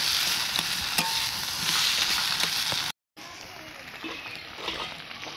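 Fish laid on leaves sizzles and crackles in a pan as it fries, heard up close with stirring and shuffling noises, briefly cut off before the hot sputtering carries on. A voice speaks faintly in the background.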